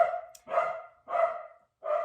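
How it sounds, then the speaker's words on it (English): A pet dog barks indoors at home after a bang on a table, three sharp, evenly spaced barks close by with short silences between them. "hear my doggy barking because I banged the table and he thinks somebody's at the door"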